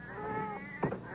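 A cat's meow sound effect in an old-time radio mystery drama, a single drawn-out bleating cry near the end over a soft musical backdrop.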